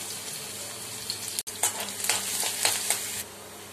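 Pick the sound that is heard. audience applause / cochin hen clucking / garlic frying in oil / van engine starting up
garlic frying in oil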